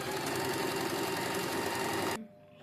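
A sewing machine stitches a Patiala salwar in a loud, fast, steady mechanical whir for about two seconds, then stops abruptly, leaving quiet room sound, with no talking.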